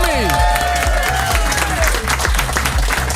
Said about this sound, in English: One more time, a round of applause for Ahmed Hilmi.